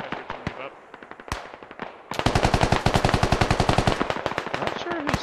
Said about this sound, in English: Not sure who Sin's shooting at.